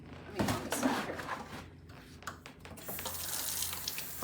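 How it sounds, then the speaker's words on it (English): Water runs from a tap into a tub being filled with cold water, a steady splashing rush with some clunks and a voice talking over it at moments. "I'm going to fill that tub with some cold water and a slug of vinegar."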